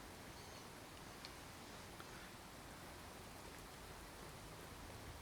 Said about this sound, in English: the rain volume sounds like muffled